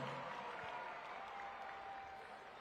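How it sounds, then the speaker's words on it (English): An arena crowd at a Monster Jam event in Las Vegas applauds, a broad, distant wash of clapping and cheering that fades slightly toward the end. "Let's give Robert a huge round of applause"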